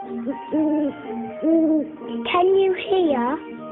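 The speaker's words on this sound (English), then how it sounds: "That's right, the owl is hooting." An owl hoots in a cartoon setting, giving a series of smooth, tonal hoots that rise and fall, close and clear. A voice speaks briefly at the start.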